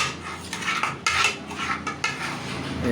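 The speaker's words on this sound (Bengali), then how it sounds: "এটাকে আর একটু ভালো করে একটু নাড়িয়ে নিব" Food stirred in a pot after water has been added, a healthy dish for small children, with a spoon scraping and clinking against the metal in close, busy strokes and a few sharper knocks.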